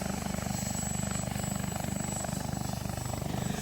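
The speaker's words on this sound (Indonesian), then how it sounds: "Dalam simulasi, helikopter dikerahkan untuk mengevakuasi korban bencana dari kawasan Pantai Mertesari." A helicopter flies during a disaster evacuation simulation at Mertasari Beach in Bali, its rotor thumping in a fast steady pulse under a constant engine whine. It sounds moderately distant and carries on without a break.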